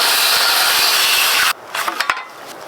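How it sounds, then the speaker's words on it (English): Chainsaw set to full depth making rip cuts into a timber-frame pergola tenon, a loud continuous cutting roar for about one and a half seconds, then it stops abruptly, leaving faint wood knocks and rubbing. "So now we're going to set the saw to max depth and do our rip cuts"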